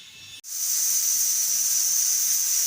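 Steady loud hiss of steam from a pressure cooker whistle on the stove while cooking chana, starting abruptly after a brief pause and holding continuous for a couple of seconds, alone with no talk.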